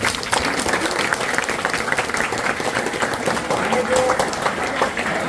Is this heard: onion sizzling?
no